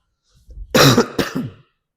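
A person clears their throat harshly and coughs, two rough bursts close together, loud and close-up with nothing else around.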